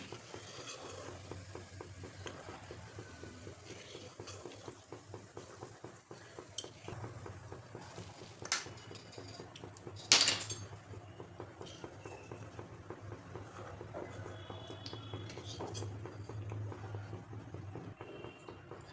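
Flattened rice (poha) fries in a pan for Diwali chivda, a low, steady sizzle with soft stirring scrapes and a single sharper clink of a utensil near the middle.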